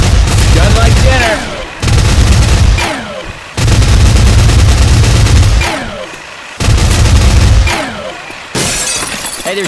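DOOM chaingun custom weapon in Left 4 Dead 2 fires in loud sustained bursts, a dense rapid stream of heavy shots cut by brief pauses, repeated four times, close and dominant.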